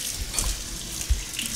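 Kitchen tap water running steadily into a sink while dishes are washed, a soft continuous hiss with a couple of low clunks from dishes.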